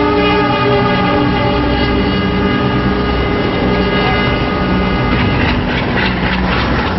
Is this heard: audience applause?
no